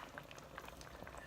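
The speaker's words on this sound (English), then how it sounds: "it's boiling" Glutinous rice balls in coconut milk simmer in a pot, giving a soft, steady bubbling and popping that stays faint and close with no voices.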